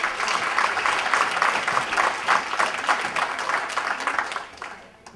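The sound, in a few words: applause for coach at awards ceremony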